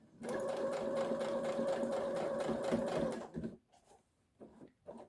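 A sewing machine runs steadily as it stitches a tote bag, one continuous whirring burst of about three seconds, then a few short stop-start bursts as the work is adjusted. Close and clear.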